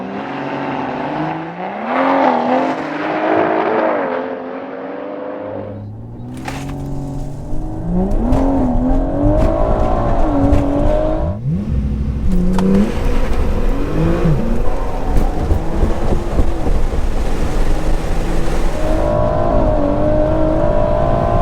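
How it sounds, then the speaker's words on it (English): A tuned 700 hp BMW M140i and a 580 hp Porsche 911 Turbo S drag race with the BMW given a head start. Loud engine notes rise and fall repeatedly through gear changes, roaring continuously and close, with no talking. "We're going to give the BMW an 8 to 10 car lengths head start to see if the 911 can catch him"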